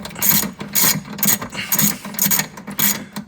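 A ratchet tightens a battery terminal nut on a Club Car 48V golf cart during a LiFePo4 battery conversion: about six quick, close clicking bursts in an even back-and-forth rhythm.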